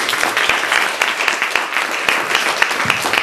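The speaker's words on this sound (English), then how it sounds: "if we can give them a round of applause" Audience applause at a charity support event, a dense sustained clapping from a crowd that stays steady and fairly loud throughout.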